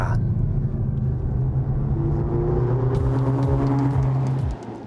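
A Mercedes-AMG CLE 53 coupe accelerating, its engine a loud steady rumble that rises gradually in pitch from inside the cabin, then drops away abruptly near the end.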